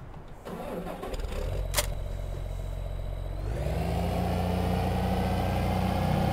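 A tractor engine in the farming game Farming Simulator 2015 rumbles low and steady, then shifts about halfway through into a fuller, even idle that holds to the end, with no voices.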